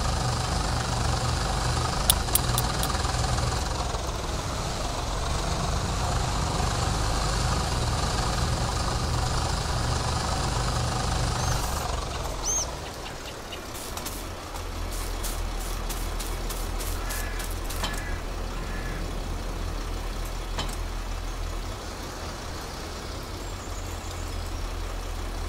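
Several tractor engines in Farming Simulator 22, including a Mahindra Arjun 605, straining to pull a loaded potato trolley: a loud, continuous low diesel drone that dips briefly midway, then resumes with a deep, steady rumble and occasional clicks.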